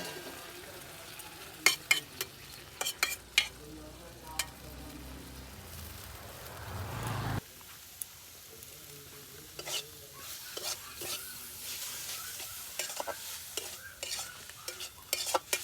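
Leafy greens frying with salt and turmeric for a shak bhaji, with steady low sizzling broken by frequent sharp clinks of a spatula stirring against the pan, close and moderately loud, no voices.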